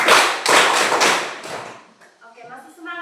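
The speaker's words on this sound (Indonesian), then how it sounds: "tepuk tangan untuk semua kelompok dulu" A classroom of students applauds all the groups together, a dense burst of clapping that fades after a second or so as voices and a brief tonal, sung or hummed sound take over.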